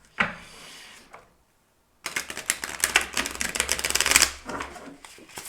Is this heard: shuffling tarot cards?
yes